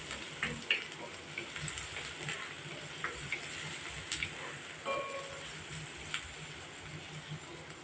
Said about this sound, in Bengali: পেঁয়াজ কিন্তু ব্রাউন করে ভাজার দরকার নেই